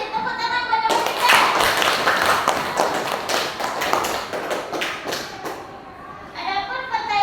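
A classroom group claps hands in a busy, uneven burst of applause lasting several seconds, fading toward the end, with a voice speaking before and after.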